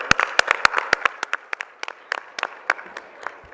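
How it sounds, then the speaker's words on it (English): Audience applause at a Viksit Bharat 2047 women-in-leadership event: scattered, distinct hand claps from a smallish crowd, sharp and uneven, thinning out over a few seconds. "a thunderous round of applause for the entire team"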